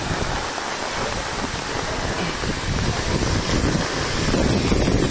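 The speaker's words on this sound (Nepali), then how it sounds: "हावा पनि निकै ठुलो परेको छ यहाँनिर" Strong wind roars and buffets the microphone beside the Mohini waterfall. It makes a constant, loud rushing noise that swells toward the end, with splashing water blended underneath.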